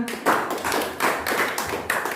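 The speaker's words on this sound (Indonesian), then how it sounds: "Tepuk tangan." Pupils in an Indonesian classroom clap together in a short burst of rhythmic, fairly close claps, roughly three strong pulses with scattered hand taps between.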